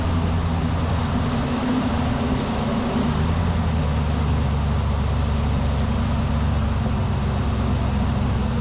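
A 2025 Ford F350 Lariat Tremor pickup accelerates on a highway, heard from inside the cab as a steady loud engine drone with road and wind rumble that holds throughout.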